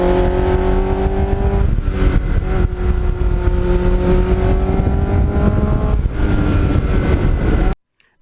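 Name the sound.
Kawasaki GPX750R motorcycle engine with Muzzy muffler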